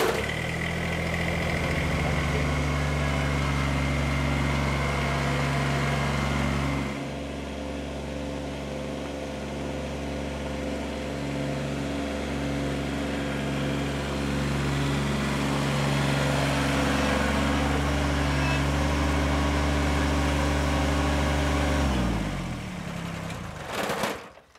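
A Kubota BX series compact tractor engine cranks, catches and runs at a steady, loud idle close by, with a brief drop in tone partway through before it shuts off near the end.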